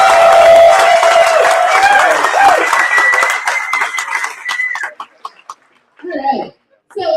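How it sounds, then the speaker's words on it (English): Applause at a homebrewing competition awards ceremony: a crowd claps and cheers with some chuckles for a few seconds, the clapping fading out as a person starts speaking again. "they deserve a round of applause"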